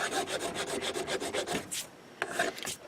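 A persimmon golf club head is worked with a hand file: a steady run of close, rhythmic rasping strokes, then a short pause and a few more scrapes, heard alone.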